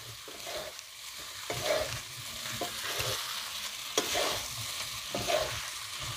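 Tapioca pearls for sabudana khichdi sizzle gently in a pan while a spoon stirs them, with soft scraping strokes recurring every second or so over a steady low crackle, fairly quiet and with no talking.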